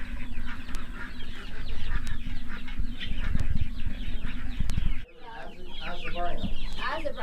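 Baby chicks six to ten weeks old and a couple of young guinea fowl chirp and cluck in a pen at a backyard chicken farm, a dense busy chorus up close with brief talk mixed in.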